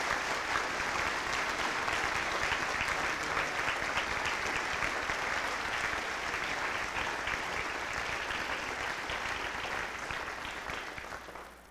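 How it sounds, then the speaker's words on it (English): Sustained applause from a concert audience at a Christmas carol festival, steady and full for about ten seconds before tapering off at the end, with no voices over it. "Let's give her a round of applause for the great job she did."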